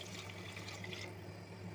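A glass of water is poured into a cooking pot of beans and carrots for vegetable biryani, giving a faint steady splashing pour over a constant low kitchen hum.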